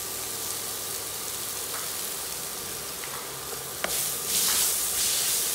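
Chopped onions, green chilies and curry leaves sautéing in a pan, a steady soft sizzle and hiss with a small clink partway through, then a louder burst of frying near the end, no voices.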